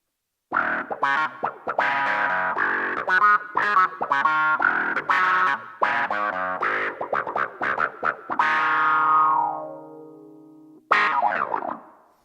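A Yamaha reface CP electric piano played through heavy overdrive, gritty chords and runs ending on a long sustained, distorted note that slowly fades before a final stab.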